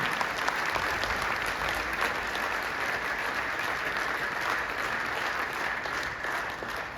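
Vigorous, continuous applause from a hall audience at a wellness retreat program in Jaipur, dense and even for the whole stretch, with no talk over it.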